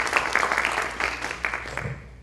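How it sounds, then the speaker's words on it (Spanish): An audience applauds to welcome the speaker at a criminal law event, a steady wash of clapping from many hands that holds at moderate level for a couple of seconds before thinning out near the end. "para quien solicito fuertes aplausos"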